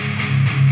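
Guitar amp plugin pushed to full drive, giving a brief, loud, dense wall of fully distorted tone with a heavy low hum and bright fizzy upper harmonics, sustained throughout and without talk.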